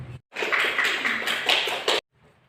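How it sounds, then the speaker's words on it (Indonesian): A classroom of students claps hands together in a dense burst lasting under two seconds, then stops abruptly into near silence. "Tepuk tangan untuk teman kalian yang sudah tampil di depan"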